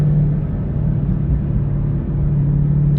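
A 2020 widebody Dodge Charger SRT Scat Pack on the highway gives a steady, deep engine rumble and road drone heard from inside the car.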